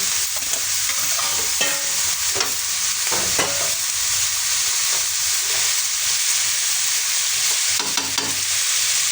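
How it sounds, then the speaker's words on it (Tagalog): Vegetables sizzle and hiss steadily in a hot frying pan, loud and close, while a utensil stirs and scrapes them now and then; nobody speaks. "Tapos lagay na natin ang gulay."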